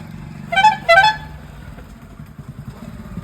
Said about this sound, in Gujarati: જો આગળ જોઈએ તમે, હોર્ન મારતો મારતો જ આવશે